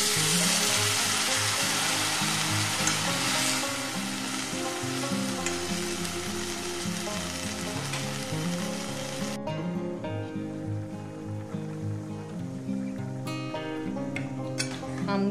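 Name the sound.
water added to sizzling mango chutney in pan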